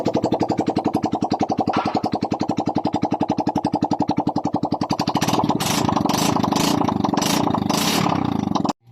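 Yamaha Mio 125 scooter engine with a gearbox oil leak and a wobbling wheel, running with a steady, rapid idle chug. It then revs up louder and rougher near the end before cutting off abruptly.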